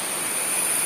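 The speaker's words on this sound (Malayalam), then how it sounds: "ഇന്നിപ്പോൾ മഴയാണ്" Rain falling, a brief, even wash of steady broadband hiss with no distinct drops, moderately loud and without voices.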